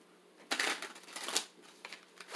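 A deck of tarot cards being shuffled close up and quietly, with two soft riffling bursts followed by lighter flicks of the cards.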